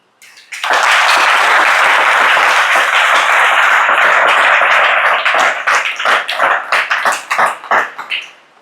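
A church congregation applauds the Lord at a singles' prophetic gathering, sustained loud clapping from a crowd that starts abruptly and then breaks into uneven rhythmic bursts before fading.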